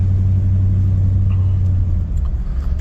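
A 1959 Cadillac Fleetwood on the road, heard from inside as a steady loud low engine rumble and road noise, continuous and without pause.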